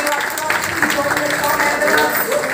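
Audience applause at the 14th Social Entrepreneur of the Year Award ceremony in India, a dense, steady wash of clapping filling the room at close range, continuing without a break.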